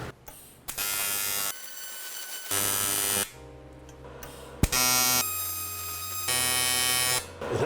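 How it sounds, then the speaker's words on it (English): AC arc welding on aluminum, a harsh steady electrical buzz that comes in several separate bursts of about a second each, loud and close, with quiet gaps between the welds. "It actually has pretty decent arc control with AC."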